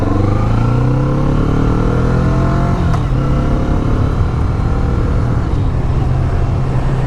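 A 2016 Kawasaki Vulcan S midweight cruiser motorcycle engine drones steadily while riding, a loud, low continuous rumble that dips slightly in pitch partway through, with wind noise.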